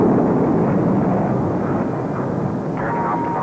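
Roaring engine noise during the launch of the X-15 rocket research airplane, a loud, dense, rumbling wash that holds steady and close throughout, with no voices over it.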